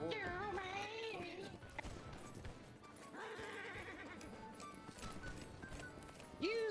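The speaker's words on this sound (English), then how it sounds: "somebody take out the horse" Horse in the Holdfast: Nations At War video game, a loud whinny with hoof clip-clops and game battle noise, with voices talking over the action.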